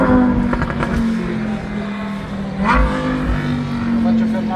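A Lamborghini sports car is driven hard around a lap, its engine holding a loud steady drone with a brief rising whine midway and rough tire and road noise throughout.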